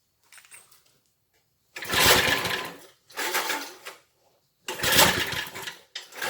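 A Briggs and Stratton engine on a rotavator over 40 years old is cranked to start, giving four close, loud bursts of sputtering, chugging roar separated by short silences, with a brief faint rattle at the start.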